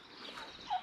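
A backyard homestead turkey tom named Tommy Boy lets out a brief, faint gobble near the end, rising over a quiet outdoor background with no talking.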